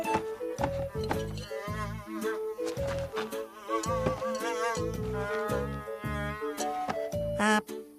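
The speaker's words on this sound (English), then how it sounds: "I can hear something. It's buzzing." Cartoon bee buzzing in an outback animated series, a steady insect drone running through the whole stretch beneath bright tonal music and sound effects, fairly loud with no talk.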